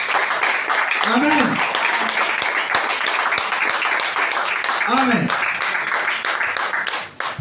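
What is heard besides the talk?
church congregation clapping and cheering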